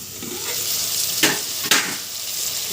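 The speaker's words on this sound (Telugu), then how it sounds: "మధ్య మధ్యలో గరిటెతో కలుపుతుండండి." A ladle stirs brinjal and mango curry in a sizzling pan, steady frying hiss with two distinct scraping strokes close by.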